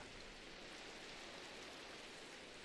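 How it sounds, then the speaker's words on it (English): Steady night rain falls in Minecraft, played with the Rethinking Voxels shaders, as a faint, even hiss of dense drops with no breaks and no voices. "Is it raining? It's raining."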